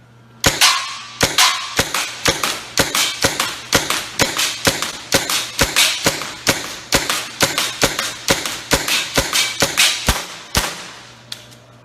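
A paintball marker fitted with a Hammerhead barrel fires First Strike rounds in a long, fairly regular string of sharp, loud pops, each with a quick decay, close to the listener.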